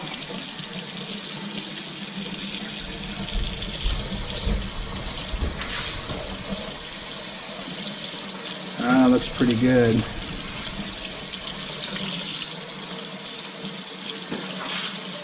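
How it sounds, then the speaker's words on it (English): Hot water runs steadily from a sink tap with a continuous hiss and splash, while people talk nearby and a brief louder gush or voice interrupts partway through. "Can you turn that water on for me, please?"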